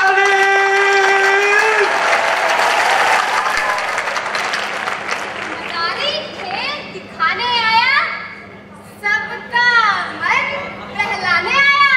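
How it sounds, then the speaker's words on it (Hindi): A crowd claps for a street performer's boy assistant at an outdoor show, with children's voices and chatter rising over the applause and bursts of clapping coming in waves. "बजाओ इस जमूरे के नाम पर ताली।"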